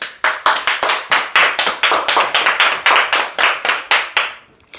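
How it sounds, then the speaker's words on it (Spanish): A church congregation clapping in praise, close and loud, with sharp claps in quick bursts that build into a rhythmic run before tapering off at the end. "Vamos a dar un aplauso a Dios."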